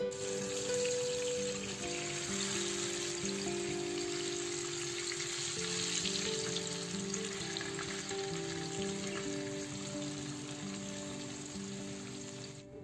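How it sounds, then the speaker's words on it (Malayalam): Steady crackling sizzle of sardines frying in hot oil, continuous and close, with no talking. "ഇനി ഇതൊന്ന് ഫ്രൈ ചെയ്തെടുക്കുകയേ വേണ്ടൂ"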